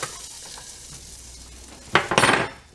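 Butter goes into a hot cast-iron pan: a faint low sizzle at first, then a short loud burst of crackling and hissing near the end as the fat hits the hot metal. No voices.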